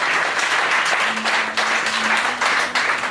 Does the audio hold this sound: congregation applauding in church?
yes